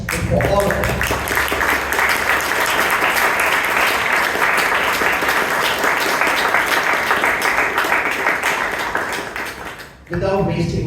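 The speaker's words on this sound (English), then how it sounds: "Now you may give a round of thundering applause for all of them." An audience at a Toastmasters club debate meeting gives sustained, dense applause for the debaters. It holds steady for about nine seconds, then fades, and a voice follows briefly afterward.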